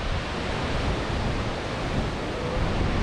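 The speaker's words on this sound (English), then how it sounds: "That's the waterfall. Oh my God, the force behind it." A constant roaring rush of falling water from a waterfall at Mount Rainier National Park fills the space, loud and broadband with no breaks or voices.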